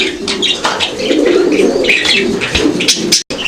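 Fancy pigeons coo steadily at close range, low rolling calls repeating over one another with a few brighter chirps and a brief flutter near the end, with no talking.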